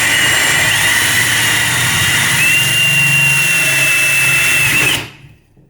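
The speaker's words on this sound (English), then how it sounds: "We should be able to drill straight through" A power drill with a door lock installation kit whines loudly and steadily as it bores through a door, then cuts off abruptly near the end, leaving quiet.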